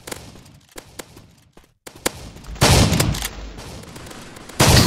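An automatic gun fires in a video game: scattered sharp shots early on, then dense loud bursts of rapid gunfire in the second half, with no talk.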